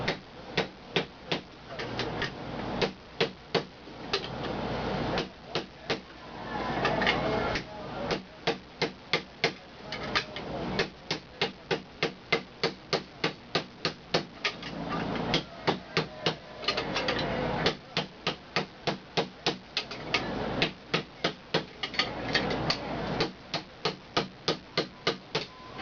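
Sheet metal is struck with a hammer in a long, fast, steady run of sharp, ringing blows that continues for about 25 seconds without talk.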